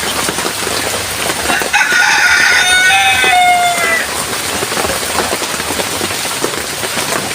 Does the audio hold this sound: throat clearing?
no